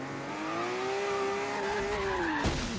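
TVR Sagaris with swapped camshafts in Forza Horizon 3, its engine wailing at high RPM in a steady, loud sustained tone that holds and then falls off, with no talking.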